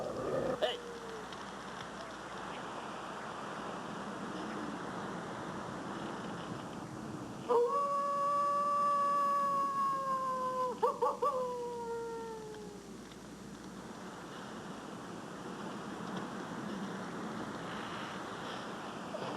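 A dog howls in long rising and falling wails at mid-clip, fairly close and clear over a low windy outdoor background, with quieter stretches before and after.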